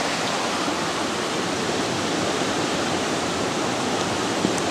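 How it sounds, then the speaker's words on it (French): Water pouring out through a canal overflow at a water intake on a hiking trail, a steady broadband rushing roar, continuous and even throughout. "là-bas, l'eau qui s'écoule, le trop-plein ici"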